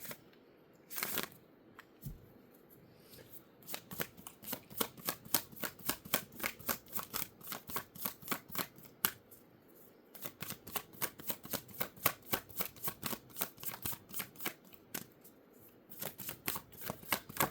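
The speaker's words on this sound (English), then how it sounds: "while I am shuffling to get your Moonology card" Cards being shuffled close by, a long run of rapid, crisp riffling flicks with a few brief pauses, quiet and steady with no talking.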